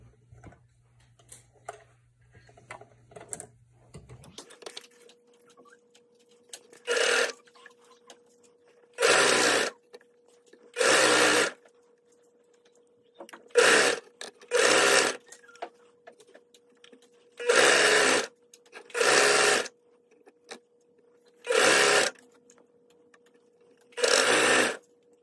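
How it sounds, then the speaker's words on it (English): A sewing machine stitches around the edge of children's summer sleep shorts in close, loud bursts of rapid whirring, each about a second long, separated by short pauses with a faint steady hum between them. "now we're just going to sew around the edge"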